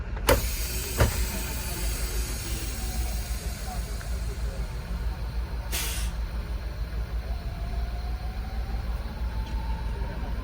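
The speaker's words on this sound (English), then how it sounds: "release both parking brakes and wait for the needle to settle" Truck air brakes release during a CDL brake test: a sharp pneumatic hiss bursts out near the start and another around the middle, over a steady idling engine rumble heard from the cab.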